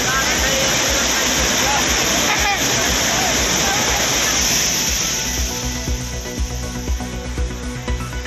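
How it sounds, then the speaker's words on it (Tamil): Courtallam waterfalls in flood after continuous rain, a loud, dense, unbroken roar of rushing water that eases slightly toward the end. "தொடர் மழையால் குற்றால அருவிகளில் கடும் வெள்ளப்பெருக்கு."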